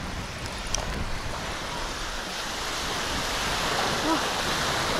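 Waves of the Sea of Azov wash onto a hot sandy wild beach at Kuchugury, a steady broadband surf roar that builds slightly toward the end, with faint brief sounds over it.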